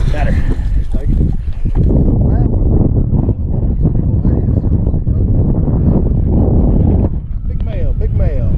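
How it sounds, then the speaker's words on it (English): Strong wind buffets the microphone on a bass fishing boat on a lake in spring, a loud continuous low roar throughout with a person talking over it. "Lots of wind, folks."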